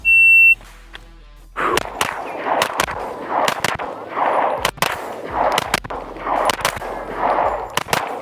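A Walther PDP pistol fires a rapid string of about ten loud, sharp shots at a range, the cracks ringing off steel targets with metallic clangs after a beep from a shot timer starts the drill.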